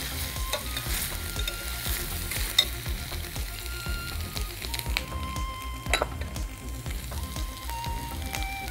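Chopped onion fries in hot oil with a steady sizzle, stirred now and then with soft scrapes and an occasional clink of a utensil, close and with no talk.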